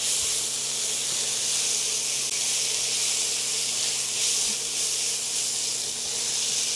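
Hot oil hisses and sizzles steadily as a tasha of garlic and spices is fried for a Lenten Egyptian galash filling, a continuous loud crackling hiss with no talk.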